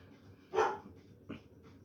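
A dog gives a single sharp bark, then a softer short yip about a second later, both fairly close against a quiet room.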